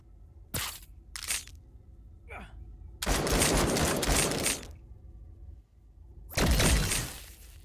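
Gunfire in the combat video game Encased: two sharp shots, then a long sustained burst of rapid fire, a pause, and another heavy burst, all loud and close.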